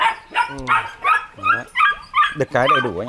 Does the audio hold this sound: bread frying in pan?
no